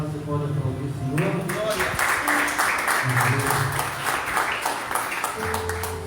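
Congregation applause in a Baptist church, a broad wash of clapping that builds after the first second and carries on steadily, with music or voices sustained beneath it.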